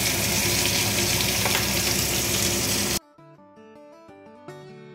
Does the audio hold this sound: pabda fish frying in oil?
yes